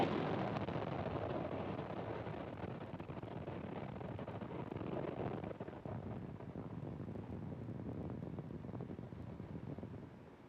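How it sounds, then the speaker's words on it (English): SpaceX Falcon 9 rocket lifting off from Slick 4E at Vandenberg Space Force Base, California, a continuous distant broadband roar and rumble with gusty crackle, steady throughout and free of talk. "Falcon 9 has successfully lifted off from Slick 4E at Vandenberg Space Force Base in California"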